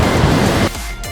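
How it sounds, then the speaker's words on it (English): A loud, rushing roar of a waterfall in Namibia's Caprivi Strip fills the clip, then drops abruptly to a quieter, steadier wash. "A bit noisy here at the waterfall."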